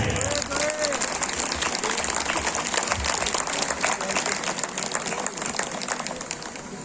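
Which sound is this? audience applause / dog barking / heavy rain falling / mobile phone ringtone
audience applause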